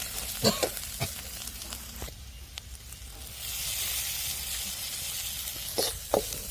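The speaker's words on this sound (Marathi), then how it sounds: "मसाला आपण बरोबर बारीक करून घेतलेला आता खडबट्यामध्ये तो परतून घ्यायचा" Ground spice masala being fried in a pan, a steady close hiss of sizzling that swells midway, broken by a few scraping stirs and clinks, no one speaking.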